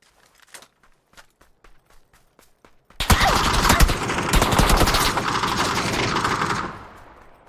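PUBG gameplay: sparse footstep ticks lead into a long, loud burst of automatic gunfire sprayed in rapid continuous shots for about four seconds before cutting off.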